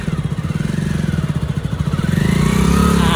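Motorcycle engine running steadily, with a chugging, pulsing note as the learner rider shifts into second gear; the revs build and the engine grows louder toward the end, close by with no talk.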